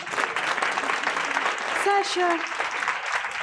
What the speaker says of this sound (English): Can I hear a bigger round of applause?